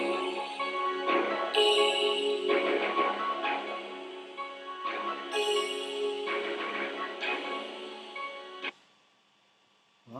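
A brass part added to a music track plays loud, bright stabbed chords and sustained notes in a repeating pattern, then cuts off into near silence.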